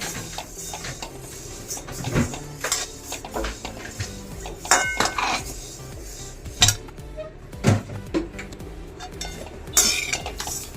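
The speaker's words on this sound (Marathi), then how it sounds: "असं धणे भाजायला घेतले आहे।" Coriander seeds dry-roasting in a kadai over a gas flame, with repeated metallic scrapes and clinks of a spoon against the pan, some sharper knocks standing out at close range.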